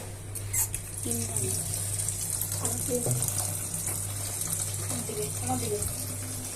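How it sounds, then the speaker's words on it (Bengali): Water gushes steadily from a turned-on tap, a constant hissing rush under a low hum, while voices talk over it intermittently. "কলটা চালু করো।"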